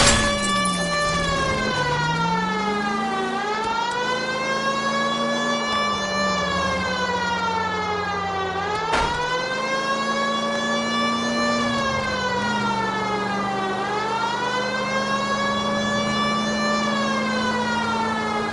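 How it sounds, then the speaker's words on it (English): A wailing police car siren from the video game L.A. Noire sweeps steadily up and down in long, loud cycles, close and continuous throughout, with a brief sharp interruption partway through and no talking. "We've got a siren for a reason, you know."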